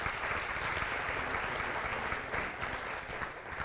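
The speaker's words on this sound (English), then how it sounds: "So let's give them a round of applause." A steady round of applause at a San Antonio council district event honours the sponsors. Many hands clap together in a dense, even, continuous texture, heard from across a large room at moderate loudness.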